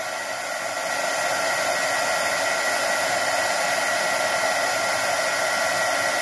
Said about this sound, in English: You gotta make sure that you don't let the heat gun get too hot either.